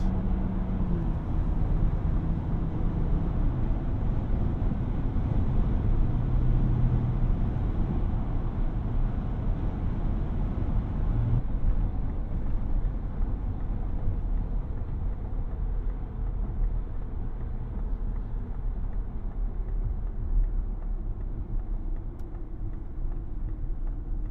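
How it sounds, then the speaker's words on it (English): A 2024 Ford Ranger Raptor's twin-turbo V6 drones steadily from inside the cab while driving, a loud, continuous low rumble with road noise that holds evenly and eases slightly toward the end. "Plenty of power coming out of that twin turbo V6."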